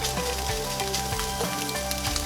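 Eggs and onions sizzle steadily in a frying pan, a dense close crackle with small pops running throughout, no voices.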